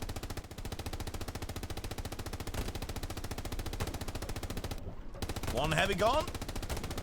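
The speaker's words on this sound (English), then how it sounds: "MG support fire." Sustained rapid machine gun fire in the Hell Let Loose competitive match on Omaha Beach, dense and steady throughout, with a brief gap and a louder burst of battle noise near the end, a voice speaking over it.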